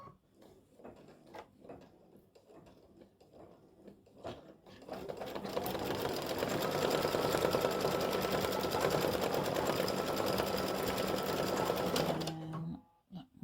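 An embroidery sewing machine stitches a gnome's pant legs in black thread, starting with a few clicks and taps, then running in a loud, steady mechanical whir for several seconds before stopping abruptly.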